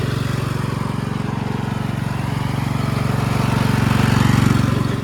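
A Simplicity Regent 1438 lawn tractor with a Tecumseh engine, once abandoned and with its safety switches bypassed, runs loud and close in a steady, rhythmically pulsing drone that swells slightly toward the end.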